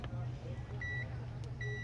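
A continuity tester buzzer beeps in short tonal bursts while a Konzert AV502B amplifier is checked, two or three brief beeps over a low steady hum.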